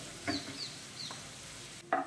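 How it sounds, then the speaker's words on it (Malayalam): Onions for ghee rice frying in a pan until golden, with a soft steady sizzle and a few distinct scraping stirs of a spoon against the pan, no talk. "നല്ല ഗോൾഡൻ കളറാവുന്ന വരെ ഒന്ന് വറുത്തെടുക്കാം."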